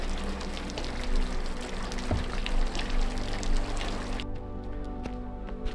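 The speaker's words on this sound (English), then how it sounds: "Funny, it really drips down in a few places, like here and there, not so much here." Meltwater dripping and trickling from roof gutters on a house under construction after the first snow, a steady close wash of pouring water with a few sharper drops standing out, no voices.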